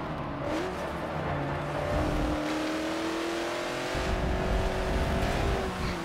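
Porsche 911 race cars in Forza Motorsport 7 drone loudly with steady high engine notes that rise and shift through gears, several cars close together and continuous throughout.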